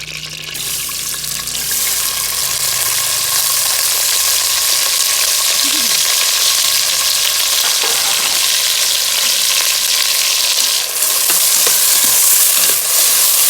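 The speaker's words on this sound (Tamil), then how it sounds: "நல்லா வதங்கட்டும்." Onions, green chillies and tomato sauté in a pan for a Tamil meat curry, giving a loud, steady, close sizzle with occasional faint stirring scrapes.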